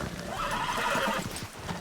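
A horse in the video game Red Dead Redemption 2 gives one loud, drawn-out whinny that rises and falls close by, followed by a few clip-clopping hoof steps as the neigh fades.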